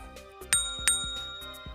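A bright bell chimes as a sound effect for a subscribe button, a few ringing dings with two clear strikes over a sustained metallic shimmer, alone with no voices.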